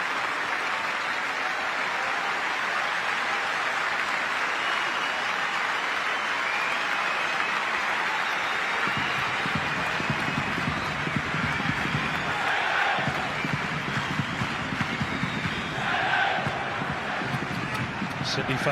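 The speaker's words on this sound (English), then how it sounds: "Sydney fans break away from their applause to try and rouse their team again." Sydney FC supporters in the stands at a 2016 football match against Melbourne City clap and cheer under a constant crowd roar, with the rhythmic clapping swelling in the second half while a commentator talks over it.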